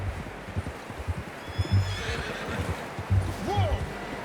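A horse in Red Dead Redemption 2 whinnies loudly near the end, with soft hoof clip-clops and low rumbling throughout, under a muffled game ambience.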